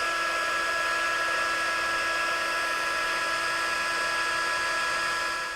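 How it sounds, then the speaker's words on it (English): Stampin' Up heat tool blowing hot air over embossing powder, a steady, loud, continuous whirring hiss with a high whine that runs unbroken throughout without voices. "I'm going to use the Stampin' Up heat tool, and we're just going to heat the whole thing."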